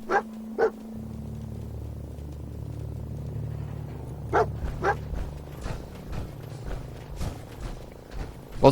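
Several sharp, short dog barks from Fallout 4 ring out over a low, steady game ambience, coming in scattered pairs and singles across the scene, with no talking.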